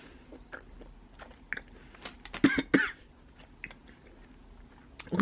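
Someone bites into and chews a crispy, very salty snack up close, with a few sharp crunches clustered in the middle among softer chewing clicks and a throat sound, with no talking.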